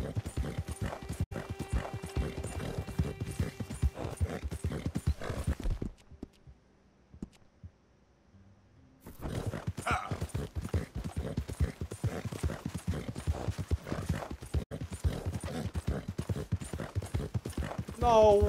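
Horse hooves clip-clopping at a steady rhythmic pace in the video game Red Dead Redemption 2, loud and continuous apart from a brief quiet gap, with a neigh near the end and voices talking throughout.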